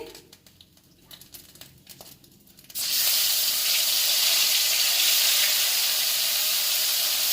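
Pieces of pangas fish drop into hot mustard oil after a quiet start, and a sudden loud, steady sizzle of frying bursts out and holds without fading.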